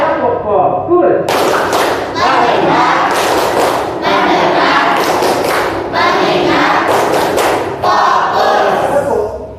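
A classroom of students performing the rhythmic Indonesian 'tepuk fokus' clapping chant, with loud, dense bursts of clapping and voices chanting together in steady repeated phrases close by.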